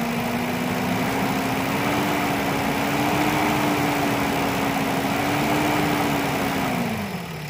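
A car engine runs steadily at a raised, held speed, a constant droning hum that eases down at the very end.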